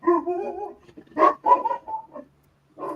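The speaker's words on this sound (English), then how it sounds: "I heard a dog barking" A dog barks and yips in several short bursts with brief whimpering sounds between, fairly close and clear, with quiet gaps between the barks.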